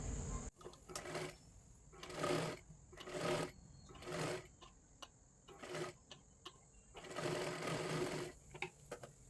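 A sewing machine runs double stitching on a katori blouse in several short, close bursts of rapid stitching, separated by brief pauses, with a faint whirring between runs.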